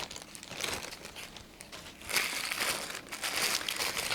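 Paper and shopping bags crinkle and rustle close by in bursts, swelling louder near the end, with no talking.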